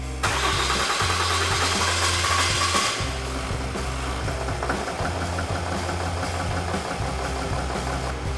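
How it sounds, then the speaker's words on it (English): A 2019 Ram truck engine cranks and catches, then settles into a loud, steady rumbling idle with some knocking. "Then we're going to start the engine back up."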